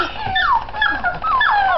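Several puppies whimper and yip in quick overlapping high cries, close and fairly loud, with no talking.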